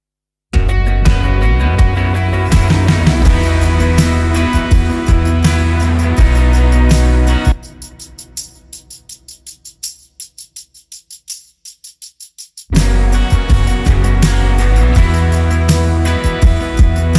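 A worship song playing at full band volume, with a steady tambourine rhythm riding on top and harder hits landing on the snare. The mix drops to a sparse, ticking passage in the middle before the full chorus returns.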